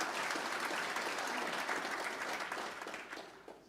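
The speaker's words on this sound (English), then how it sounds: "I think we should give her a round of applause." Applause from an audience at an inaugural council meeting, a dense steady clapping that fills the room and slowly fades toward the end.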